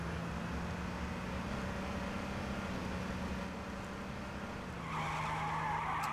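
Car tires skidding in H1Z1 King of the Kill, a steady loud rushing screech with a low engine drone underneath, sustained for several seconds and brightening near the end.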